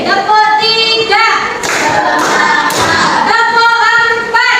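A classroom of sixth-grade students claps together in short rhythmic bursts during a lively group clapping game, broadband claps sitting loud alongside a woman's sing-song leading voice.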